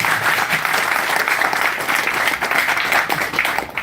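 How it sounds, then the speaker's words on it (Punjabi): Loud, sustained applause from an audience at a company meeting in Bathinda, Punjab, a dense steady wash of many hands clapping together that carries on without a break. "ਇੱਕ ਵਾਰੀ ਜ਼ੋਰਦਾਰ ਤਾਲੀਆਂ ਬਜਾਓ।"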